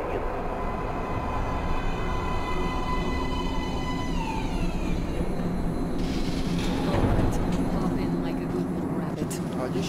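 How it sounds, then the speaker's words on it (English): Metro train pulling into an underground station platform in the video game Metro Last Light, a steady loud rumble and rail hiss with a rising siren-like whine and clatter, under scattered game voices. "Train coming in."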